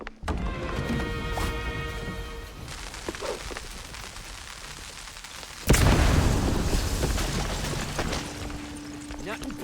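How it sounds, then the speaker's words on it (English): A mouse blows up in a video game with a sudden loud booming burst partway through, following a stretch of electronic game tones and hum, and talking is heard around it. "Can I explode that mouse?"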